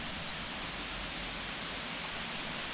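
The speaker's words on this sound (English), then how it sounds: "You may be able to hear the sound of rushing water." Rushing water from Brook waterfall in the woods of Wheelton Plantation, a steady, even broadband hiss heard from a short distance, with no voices or other sounds.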